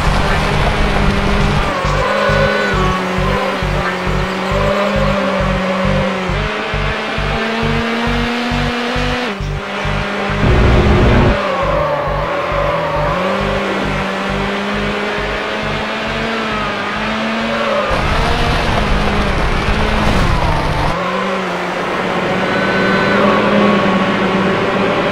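An orange McLaren F1 races in Need for Speed Hot Pursuit 2, its engine droning loudly and steadily with rising and falling pitch, a sharp buzzing pulse and brief skidding tire noise mixed in, plus faint radio chatter.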